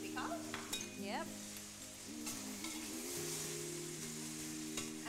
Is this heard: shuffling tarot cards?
no